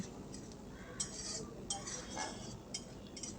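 Spoon scraping and clinking against a pan as masala of turmeric and chili powder is stirred and sautéed on low flame, with soft intermittent clinks over a quiet low background rumble.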